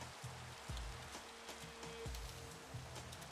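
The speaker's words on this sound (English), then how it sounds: "Really wish it wasn't raining though," Rain falls steadily in the video game Minecraft, a soft continuous hiss with a few faint clicks and low thumps over it and no voice.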